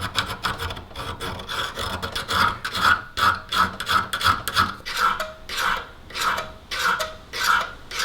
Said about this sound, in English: So you can also use a chainsaw file.